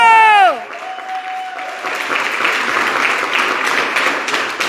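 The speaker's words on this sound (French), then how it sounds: "Un peu d'applaudissements parce que..." Audience applause at an evening event in France, a broadband wash of clapping that follows a brief shout and a held whistle-like tone, then continues steadily and fairly loud to the end.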